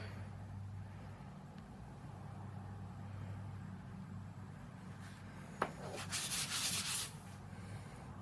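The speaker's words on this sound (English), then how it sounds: "Let me try spraying it on and rubbing it off." Soft, steady rubbing of a paper towel wiping paint off a challenge coin against a low background hum, building into a brief louder burst of scrubbing near the end.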